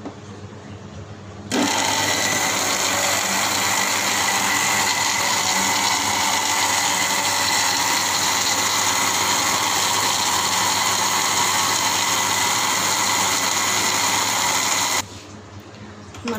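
A kitchen grinder blends green chillies and onion with a little water into paste, a loud continuous motor whine starting abruptly after a quiet moment and cutting off near the end.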